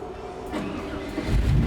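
An LS-swapped Chevrolet C10 engine cranks and fires, rising from a low rumble to a louder, fuller roar near the end of the short stretch, with no voices.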